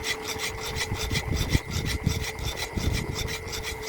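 Steady, rhythmic rasping of a hand file scraping back and forth on a ring made from a 1974 Thai Garuda coin, close up and continuous with no talking.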